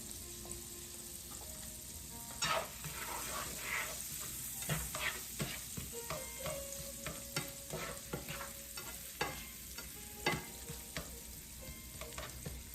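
Onions frying in butter in a pan for a sauce give a steady, close sizzle, broken by repeated scraping stirs and small pops throughout, with no talking.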